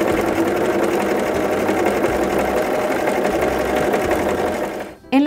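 A Brother CV3550 coverstitch machine sews stretch fabric with a loud, steady, rapid mechanical whirr close by, then slows and stops near the end.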